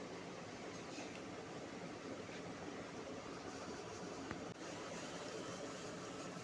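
Inside a moving suburban train bound for Masjid Bunder, a steady low rumble and rattle of the carriage runs throughout, with a faint rhythmic wheel clack and one brief knock partway through.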